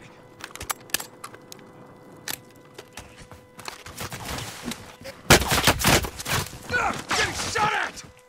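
Gunfire in the video game Call of Duty Warzone: scattered sharp single shots at first, then heavier, denser volleys in the second half, some near and loud, others more distant.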